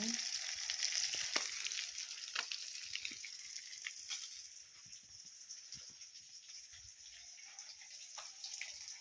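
Fish fries in oil with a soft, continuous crackling sizzle, punctuated by scattered pops and faint clinks, fairly quiet and steady throughout.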